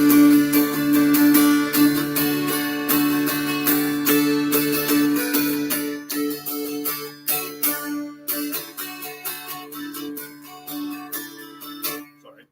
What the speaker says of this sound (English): Dulcimer comes from Appalachia.